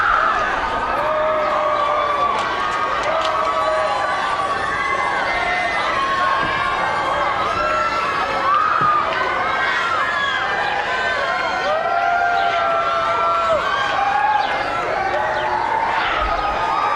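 Michael Jackson's fans outside the 2005 trial verdict cheering and shouting as he walks out waving, a dense, steady roar of many voices with scattered shrieks, loud and continuous throughout.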